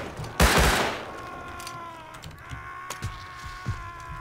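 Tommy gun fire in the survival game Rust: a loud close burst of rapid automatic shots near the start, followed by scattered fainter distant gunshots and clicks.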